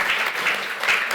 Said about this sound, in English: maybe we could keep the applause until the very end